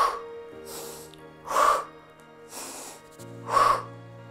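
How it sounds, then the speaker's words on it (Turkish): Sharp breaths drawn in during an abdominal exercise workout, three audible inhalations spaced about two seconds apart, close and moderately loud over a faint steady background tone. "Burada nefes alıyorum."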